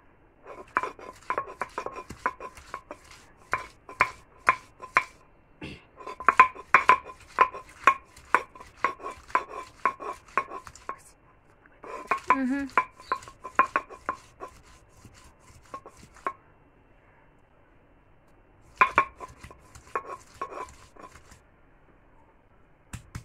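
Spices ground by hand for home cooking, heard as close, rhythmic knocking and scraping strokes in several bursts separated by short pauses, with no talking.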